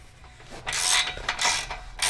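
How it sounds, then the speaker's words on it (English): Metal exhaust pipe clamp being worked loose on a BMW E90 in a garage, giving a few rough scraping, rasping bursts in close succession, up close with no talking. "Removing this awkwardly positioned clamp first."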